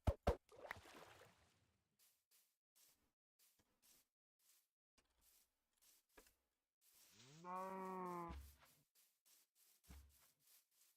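A cow in the Minecraft video game gives one drawn-out moo in the middle of the clip, set among soft, scattered clicks and shuffling noises, with no talking.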